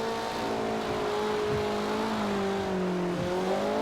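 Brian's Mitsubishi Eclipse from Fast & Furious driven through corners in the racing game Forza Horizon 2, its engine droning steadily with rising and falling pitch as it shifts, loud and continuous with no talk.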